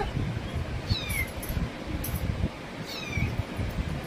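A cat meows twice, close by, with high thin cries separated by a pause, over rustling and handling noise.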